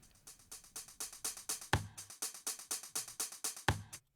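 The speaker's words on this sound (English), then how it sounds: "the loop is basically just an acoustic drum set that I chopped up a little bit" Chopped-up acoustic drum set loop, a fast steady pattern of crisp hits with two heavier accented beats, repeating evenly and close for about four seconds, no voices.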